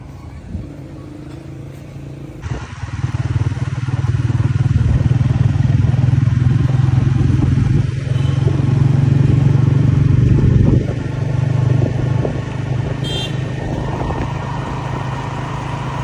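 Motorcycle ride to buy a new tyre, the engine droning loud and steady close by with wind and road noise, the pitch rising and easing as it travels.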